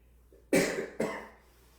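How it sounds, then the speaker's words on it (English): A person gives two short, close coughs about half a second apart during a yoga breathing exercise for diabetes, with quiet room tone before and after. "Every time I activate my larynx, I get a little cough."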